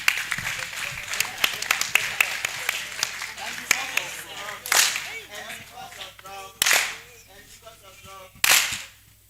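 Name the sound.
audience applause for the conference director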